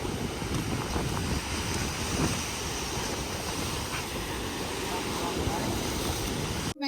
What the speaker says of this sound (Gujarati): આ છે ભાઈ દીવનો દરિયો